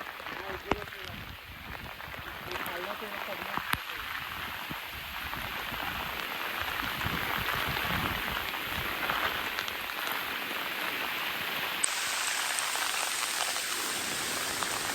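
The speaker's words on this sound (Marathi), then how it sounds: "आणि पाऊस आता मोठ्या निलो जोरात" Heavy rain pours down steadily in a dense, hissing wash with occasional sharper drops, with some speech faintly audible beneath it.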